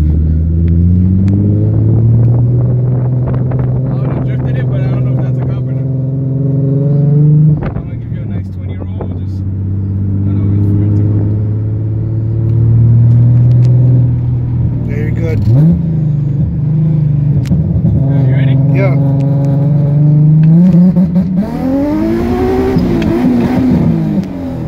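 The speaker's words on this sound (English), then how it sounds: "this pops off every time I accelerate" Infiniti G35 accelerating hard through several gears, a loud engine drone rising and falling with shifts and occasional exhaust pops, heard from inside the car while occupants talk over it.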